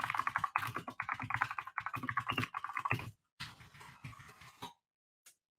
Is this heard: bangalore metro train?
no